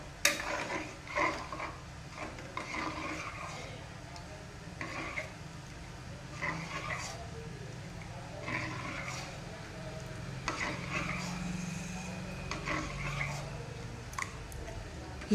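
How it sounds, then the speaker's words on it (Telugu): Sorghum porridge stirred continuously in a pot while it thickens, producing soft repeated scrapes and knocks of a utensil against the pot, faint and close, with low background murmur. "వేసిన తర్వాత కలుపుతూ ఉండాలి లేకుంటే ఉండలు కట్టేస్తుంది చిక్కబడేంత వరకు కలుపుతూనే ఉండాలి"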